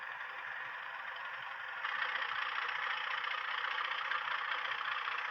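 A Hornby TTS Class 31 model diesel locomotive sound unit runs a steady engine drone, which rises to a louder, busier rev level about two seconds in and holds there with no talk.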